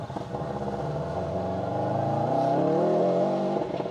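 Rally cars on a forest stage at Rally North Wales 2024, a fairly faint engine rising in pitch as it accelerates and approaches, steady droning with gear changes heard from some distance.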